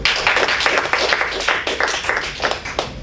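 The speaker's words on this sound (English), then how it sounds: "can we have a round of applause for Winnie?" Audience applause at a student speech evaluation session, steady dense clapping from a room of listeners that continues throughout without a break.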